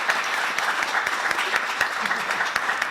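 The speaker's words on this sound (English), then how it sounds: "Let's give our panelists a round of applause." An audience applauds panelists at a sustainability and business leadership event, with steady, even clapping from a moderately sized crowd that holds at the same level throughout.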